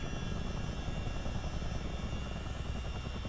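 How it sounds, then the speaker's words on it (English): A Chinook helicopter in a flight simulator game gives a steady, fairly faint rotor and engine drone. The noise stays even and unbroken, with no voices. "That was the beautiful Chinook."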